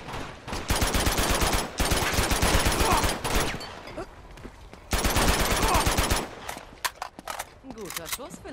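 Bursts of rapid automatic gunfire and scattered single shots in the video game Uncharted 2: Among Thieves, dense and loud in stretches, with a voice speaking between volleys.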